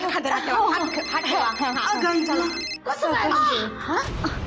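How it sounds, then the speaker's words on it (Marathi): A telephone keeps ringing under continuous overlapping talk and background music, the ring partly buried in the voices. "तुझा फोन वाजतोय."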